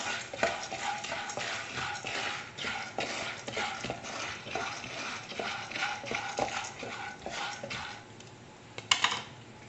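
Popcorn with turmeric and salt is stirred in a hot pan, giving a continuous close scraping and rattling of kernels against the metal. The sound holds steady, with a sharper clatter near the end and no speech.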